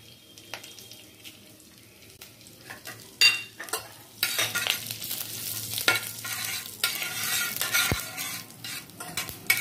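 Panch phoron, cumin, two cloves, a bay leaf and a dried red chilli fry in hot oil. Crackling sizzles swell as a spoon stirs and clatters against the pan in uneven bursts, close up, with no talking.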